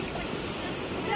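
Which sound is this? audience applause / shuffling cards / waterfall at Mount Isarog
waterfall at Mount Isarog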